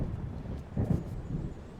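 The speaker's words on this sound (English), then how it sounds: "It seems there's a storm coming." Low rumble of thunder from an approaching storm in the game Alan Wake, a deep rolling swell that builds and fades over about two seconds, moderately distant, with no voices.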